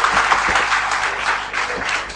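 Audience applause at a political IT convention on e-governance, a dense, steady clapping from a large crowd that carries on without pause, loud and close, with no one speaking over it.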